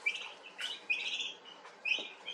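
Turkeys on a farm give three short bursts of high, chirpy calls, moderately close, against a quiet background.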